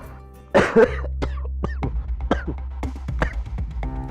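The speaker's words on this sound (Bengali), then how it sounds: "কাশি তো থামছেই না" A man coughs hard several times in a row, starting with a loud burst followed by a string of shorter, rougher coughs and throat clearing, close and dry in an indoor scene.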